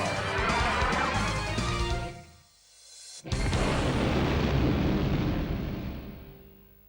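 A torpedo launch and its explosion in the shoot 'em up game In the Hunt, a loud sustained roaring blast that fades into a brief gap before a sharp crack and a second long rumbling explosion that slowly decays.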